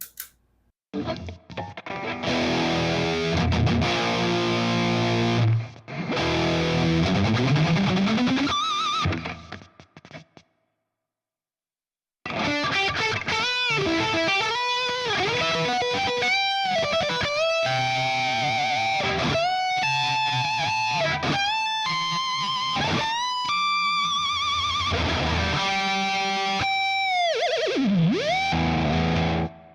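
Heavily distorted electric guitar through a ToneX pedal with a tight, punchy high-gain tone, chugging riffs and sustained bends, briefly cutting out before resuming strongly.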